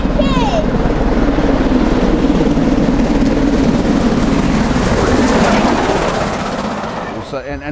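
A steam train rumbles past with a loud, steady roar that swells and then fades toward the end, a brief whistle-like tone near the start and voices faintly mixed in.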